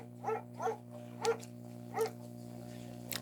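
Mayhem, a dog in the Firewatch video game, gives four short barks at a moderate distance, evenly spaced over about two seconds above a steady low hum.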